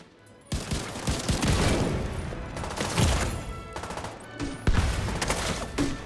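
Gunfire from headshot shooting in The Division 2 sounds as repeated sharp bursts of rifle shots over busy game ambience, moderately loud, with no one talking.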